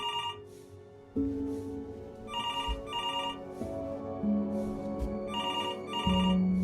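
Telephone ringing in the video game Before Your Eyes, a repeating electronic ring in short bursts over a steady musical score, loud and close with no talking.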